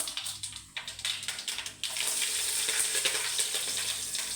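Steady sizzling of hot oil with scattered sharp crackles and pops as mustard seeds burst alongside green chillies, close and fairly loud, a brief scraping stir early on.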